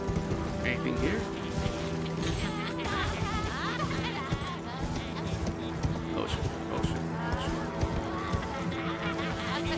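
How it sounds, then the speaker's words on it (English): Horse galloping in the video game Elden Ring, rhythmic clip-clop hoofbeats under game music and effects, with a person talking over it. "yeah, I can call my fucking horse."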